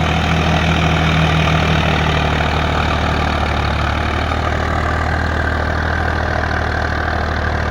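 A Swaraj 855 FE tractor runs with an 11-tine tiller attached, its engine droning loud and close in a steady, heavy rumble throughout.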